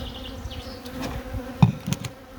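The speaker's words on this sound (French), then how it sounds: "Ça, c'est un essaim quand même que j'ai capturé le 3 mai." A captured honey bee swarm housed in a beehive with two supers gives a soft buzzing drone, with a few brief louder knocks and rustles near the hive partway through.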